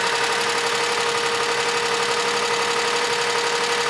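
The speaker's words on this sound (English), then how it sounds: "I actually hear a little bit of a lifter tick that I didn't hear before" A Geo Metro engine idles steadily with a light, rapid lifter tick running through its even mid-pitched hum, heard close and alone without any talking.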